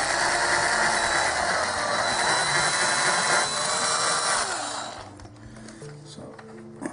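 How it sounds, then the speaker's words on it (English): A power drill bores pilot holes into a board, giving a loud, sustained whirring and grinding for about five seconds before cutting off, with a quieter mechanical rattle and faint background voice afterwards. "So that's the pilot holes drilled"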